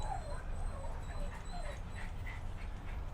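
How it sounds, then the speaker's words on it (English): A neighbour's dog barking and whimpering in the distance at an outdoor camping spot in Queensland, a series of faint yips and whines over steady background noise. "Neighbour's dog's gone off its head."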